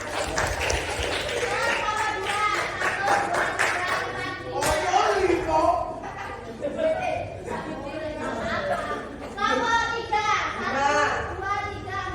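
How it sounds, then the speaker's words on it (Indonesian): Students in a classroom break into clapping amid lively children's chatter and voices, with rhythmic claps mixed under continuous talk. "Oh, tepuk tangan."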